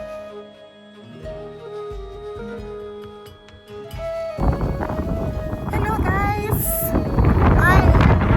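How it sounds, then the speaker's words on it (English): Strong gusts buffet the microphone on open village land, at first a softer rumble and then a loud, sustained roar of wind noise, with a person talking through it. "when we arrived at the land, unfortunately it was so windy"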